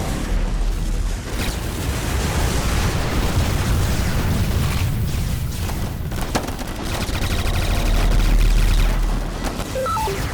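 Dense, continuous explosions and blasts from the arcade shooter Vektor Wars (2015), a loud layered barrage of booms with small electronic blips near the end.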